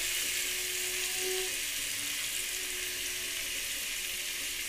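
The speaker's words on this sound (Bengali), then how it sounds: "এবার তেলের ওপরে একটুখানি ভেজে ভেজে নেব" Potatoes frying in oil in a pan, a steady hissing sizzle that holds at an even level throughout.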